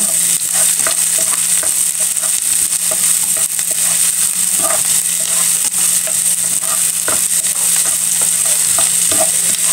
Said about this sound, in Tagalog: Halo-haluin lang po natin hanggang sa medyo maging brown ang kanyang bawang.